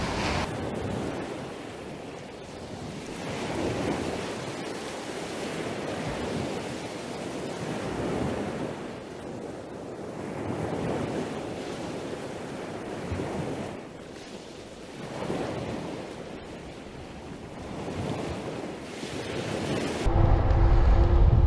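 Ocean surf breaking on an east coast beach at sunrise, a steady broadband wash of rolling waves rising and falling every few seconds, with wind noise on the microphone and no voices.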